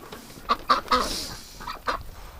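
Ducks in a winter duck hospital let out a short series of soft quacks, three close together then one more after a pause, fairly faint with no talking.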